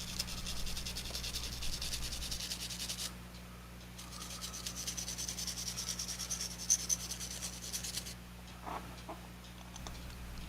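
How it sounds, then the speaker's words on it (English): A brass bristle brush scrubs the body of a model car while it is prepped for paint, giving steady, fairly quiet bursts of scratchy rubbing with a short pause, over a low constant hum. "I can hit the body up with my trusty brass bristle brush and prep it for paint"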